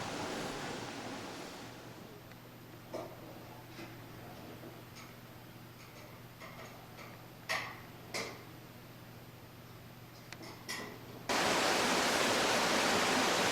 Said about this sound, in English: We can hear the creek in the background.